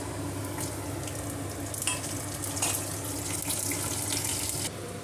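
Dry red chillies dropped into hot oil with mustard seeds, cumin, chana dal and curry leaves for a sweet mango chutney tempering give a steady, close sizzle and spatter with occasional crackling pops and stirring.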